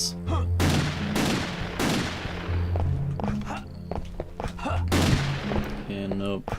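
Repeated gunfire bursts from Henry's gun in the video game Castlevania 64, loud booming shots with echoing tails at an irregular rhythm over game music and effects.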